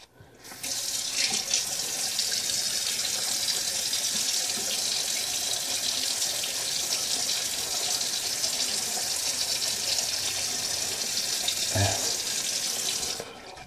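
A bathroom tap runs steadily into a sink to wet a shaving brush before a straight razor shave, a continuous close hiss of flowing water lasting nearly the whole stretch before it shuts off near the end.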